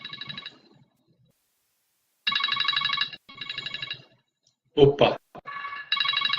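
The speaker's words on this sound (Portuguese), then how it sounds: "meu telefone está tocando" Telephone ringtone in bursts of repeated bright electronic trills, close and fairly loud, broken by pauses; a voice briefly exclaims in between.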